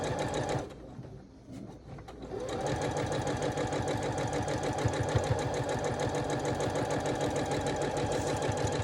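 A sewing machine stitches sashing strips onto a quilt, starting after a brief pause and then running in a steady, fast, close mechanical chatter until the end.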